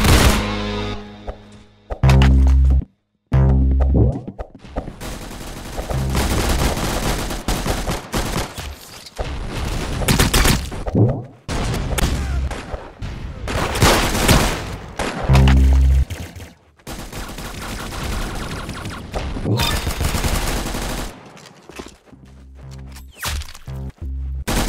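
Rapid gunfire from the Roblox game Arsenal, with loud bursts of shots and single cracks repeating across the whole stretch and broken by a few short pauses.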